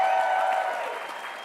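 Audience applause at a California Teachers Association State Council of Education address: a dense, steady clapping crowd that gradually thins and fades over a second and a half.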